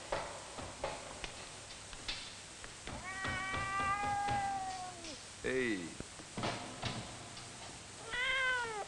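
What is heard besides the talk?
cat meowing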